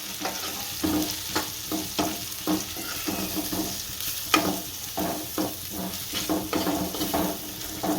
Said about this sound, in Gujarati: આ બધો મસાલો આમાં મેળવી દઈશું. આને ભેળવી નાખીએ સારું.